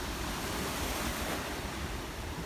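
Ocean waves washing onto the seashore at Pandan, Bohol, a continuous broad roar of surf with wind rushing across the microphone, loud and steady with no voices.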